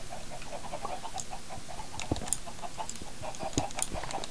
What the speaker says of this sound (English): Chickens are much nicer to listen to than the sheep.